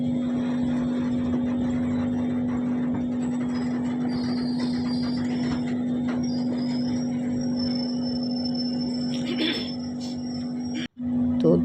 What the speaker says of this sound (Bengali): তো 2-3 মিনিট থেমে এখন ট্রেনটা আবার ছেড়ে দিল।